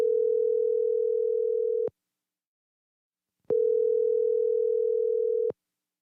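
Steady telephone ringback tone while calling out, two long even beeps about two seconds each separated by a short silence, clear and alone with no voices.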